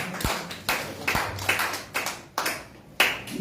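Congregation in a church service clapping to honor the word of God, a run of sharp, uneven claps in loose bursts, fairly close and moderately loud, with no talking.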